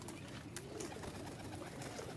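Faint, low pigeon cooing drifts under a constant background hiss, soft and distant with no talking.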